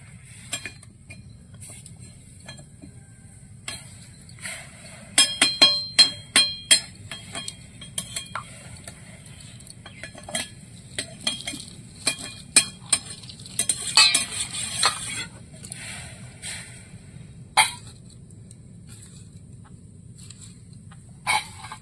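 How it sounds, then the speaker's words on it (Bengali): Knife cutting a banana flower (mocha) in a home kitchen while mung dal boils: scattered, irregular close taps and clicks against a low steady background hum, with no talking. "ডালটা সেদ্ধ হতে হতে আমি মোচাটা কেটে নিচ্ছি।"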